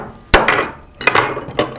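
A framing hammer with a waffle face drives a nail into wood: three sharp, loud, close blows, each with a short ringing decay and evenly spaced pauses between them.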